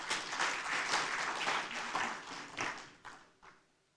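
An audience claps at a Gekira party gathering, sustained applause that thins out into a few scattered final claps and fades.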